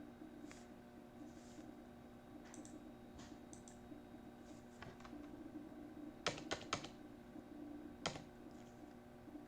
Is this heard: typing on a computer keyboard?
yes